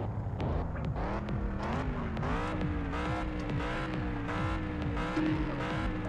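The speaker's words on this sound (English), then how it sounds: "Listen to that engine." A Pontiac Firebird races in the video game Test Drive Unlimited, its engine revving loud and steady with rising and falling pitch as it shifts through gears, under dense continuous racing noise.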